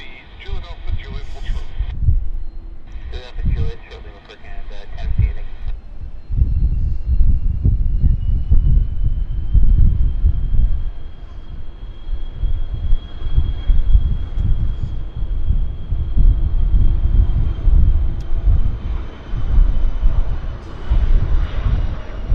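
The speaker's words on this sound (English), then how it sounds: "we got a corporate iron about to take off" Bombardier Challenger business jet takes off with a loud rumbling roar and a rising engine whine, with people talking over it early on.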